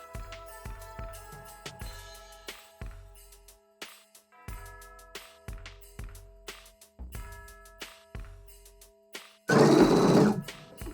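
A sewing machine runs a straight stitch along the rolled hem of a fabric gift bag in short repeated bursts, each with a rapid mechanical patter, stopping between runs, then one louder sustained run near the end.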